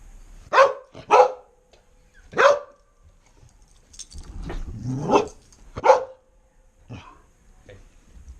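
Dog giving sharp, separate barks spaced a second or so apart, close by, with a low rising growl in the middle of the sequence.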